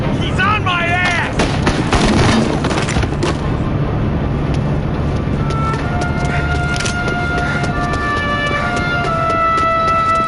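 Gunfire in the video game Mafia Definitive Edition: dense, loud bursts of shots and booming impacts roll continuously through a chaotic firefight, with shouting voices and sustained tones layered over the battle.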